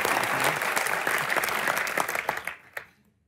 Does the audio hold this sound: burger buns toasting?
no